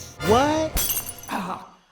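A glass soda pop bottle shatters with a sudden crash, just after a voice cries out, and the breaking debris settles briefly before more talking.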